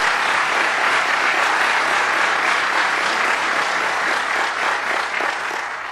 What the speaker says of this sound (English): Let's give her a big round of applause, Heather Brachetti.